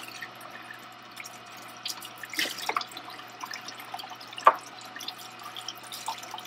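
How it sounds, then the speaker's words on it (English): A measuring cup used with gum is rinsed under running water, a faint trickle with a few small splashes and drips, close by and without talk. "I want to make sure that I do a really good job rinsing out all the items I've used"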